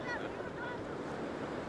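Big ocean surf breaking on the shore in Mauritania, a continuous loud roar of water mixed with wind buffeting the microphone.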